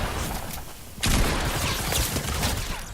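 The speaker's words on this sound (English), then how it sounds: "I missed an unacceptable amount of shots there" Rapid bursts of gunfire in a video game, starting abruptly after a quieter second and continuing as loud, dense overlapping shots through the rest of the moment.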